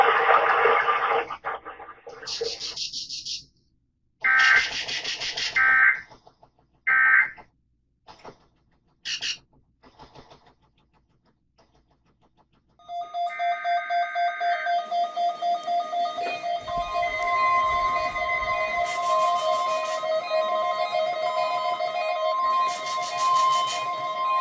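Weather radios sound a weekly Emergency Alert System test: several loud tone bursts and chirps with gaps, then a sustained steady alarm tone with pulsing overtones that runs continuously to the end.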